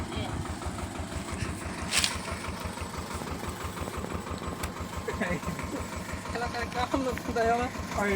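A tractor engine chugs steadily in a muddy field, a loud close rhythmic idle throb that runs throughout, with people talking over it.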